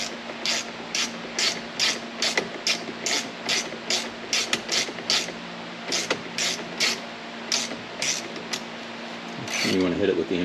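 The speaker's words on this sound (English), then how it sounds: "Let me get the ratchet." A ratchet tightens the steering wheel bolt on a 2004 Mustang, producing a close series of evenly spaced sharp clicks across the whole stretch, ending in a short louder rattle.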